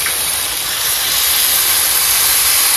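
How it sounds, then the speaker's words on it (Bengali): Water poured into a hot pan of octopus curry sets off a loud, steady hiss and sizzle of steam that fills the whole moment without any talk. "এবার একটু জল দিয়ে দেবো।"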